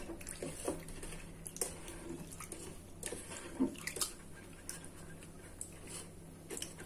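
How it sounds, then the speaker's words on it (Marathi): Food is rinsed in water: soft sloshing and splashing with occasional clinks, fairly quiet and close, with no talking. "आता याला 2-3 पाण्याने स्वच्छ धुवायचं आहे"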